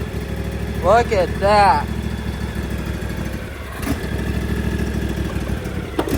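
An engine on a Volvo 240 idles with a steady low rumble, close by, while someone speaks briefly over it.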